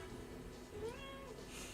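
A single rising-and-falling meow from a house cat, soft and a little distant, over a faint steady room hum.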